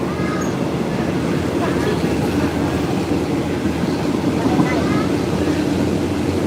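Passenger train on the line to Bangkok, Thailand, giving a steady loud rumble of wheels on rails throughout, with people talking over it.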